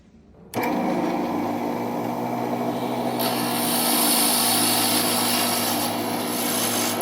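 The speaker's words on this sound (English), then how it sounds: "You can use the variable speed drill, but I like to do it on the drill press." A drill press whines steadily as it grinds into antler, a continuous loud buzzing rasp that starts abruptly and runs without pause.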